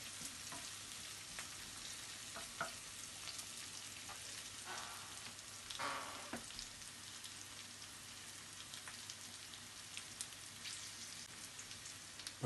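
Peppers and onions fry for Hungarian lecho, a faint, continuous crackling sizzle from the pan with a few soft scrapes and stirring sounds scattered throughout.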